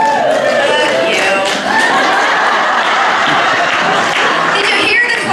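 A comedy club audience applauding and chuckling, a steady wash of clapping mixed with scattered laughter and crowd murmur that fills the room for several seconds.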